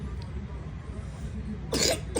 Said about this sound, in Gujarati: ઉધરસ છે ખાલી થોડી થોડી, બાકી બધું ઓકે થઈ ગયું છે